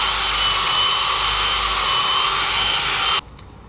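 A power drill with an abrasive attachment grinds steadily, cleaning pockets on a Dana 60 axle during ball joint prep work. It makes a loud, continuous high-pitched whir that cuts off abruptly near the end, leaving a quiet tail.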